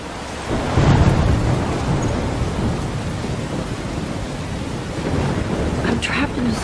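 A thunderstorm in Life is Strange: heavy rain hisses steadily throughout while low thunder rumbles near the start and again toward the end, loud and enveloping.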